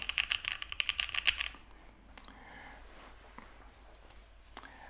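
Fast, close typing on a mechanical keyboard with linear switches, a quick burst of clicky keystrokes that stops after about a second and a half, then near silence with faint stray noises.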